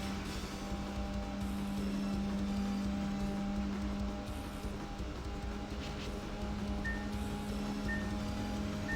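A racing car's engine drones steadily in the Dreamcast game Shutokou Battle 2, a continuous tonal hum with a faint whine held throughout at moderate volume.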